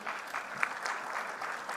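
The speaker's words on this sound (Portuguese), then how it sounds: "aqui eu peço uma salva de palmas" An audience at a mobility forum in Bahia claps for an introduced metro executive, a short, moderately loud burst of steady applause heard from within the hall.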